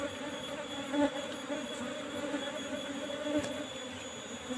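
Apis cerana honey bees hum around a small comb at a trap hive during harvest, a steady dense buzz filling the air with occasional louder swells.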